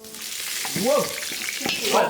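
Food sizzles and crackles steadily in hot oil in a cauldron, a loud continuous frying hiss with occasional stirring sounds.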